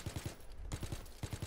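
Quick bursts of gunfire in a WW2 prop hunt game, three or four rapid shots per burst in several clusters, fairly faint with short gaps between.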